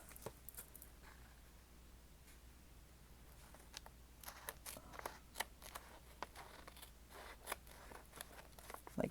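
Scissors cutting paper for a junk journal, heard as faint, scattered snips and light rustles in a quiet room, with sharper cuts clustered toward the end.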